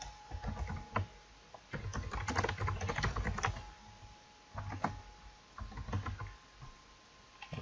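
A computer keyboard clatters in quick, uneven runs of keystrokes with a short lull midway, close and fairly soft, with no voices.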